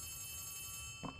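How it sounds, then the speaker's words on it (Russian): Telephone ringing inside Poppy Playtime Chapter 3, a horror video game set in a dark maze-like corridor; a faint steady electronic ring with a short louder burst near the end, heard alone. "Телефон."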